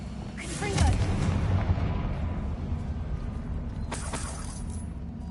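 A Confringo fire spell blasts in the Hogwarts Legacy video game: a booming burst near the start with a rumbling tail, then a second sharp crack a few seconds later, both loud over steady game background.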